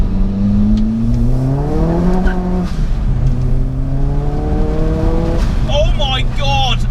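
A Ford Focus RS with a hybrid turbo making 355 bhp accelerates hard through the gears, its engine note rising in long pulls that drop at each shift, loud and close from inside the car, with a voice over it near the end.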